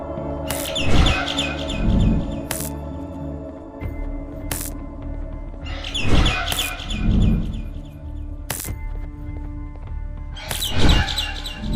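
Bird chirps in the video game Garten of Banban VI: bright repeated tweets come in clusters every few seconds, set over a steady ambient game bed with a few sharp clicks.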